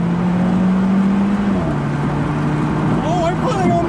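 BMW M2 Competition and Alfa Romeo 4C racing side by side on a wet road: a loud, steady engine drone whose pitch holds and then drops as a gear changes, with a second engine note rising over it near the end.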